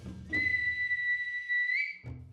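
A single long, thin whistle holds a steady high pitch for well over a second, wavering slightly before it fades, with an eerie, hollow quality.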